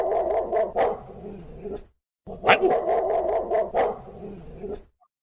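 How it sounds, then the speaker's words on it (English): Dogs bark repeatedly in two loud, close bursts of rapid, overlapping woofs separated by a brief silence, with no one talking. "the fucking dogs are barking again."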